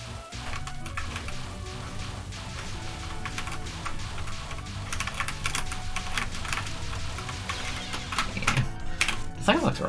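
A computer keyboard is typed on in a dense, continuous clatter of keystrokes, fairly close and loud, under constant background sound with speech mixed in.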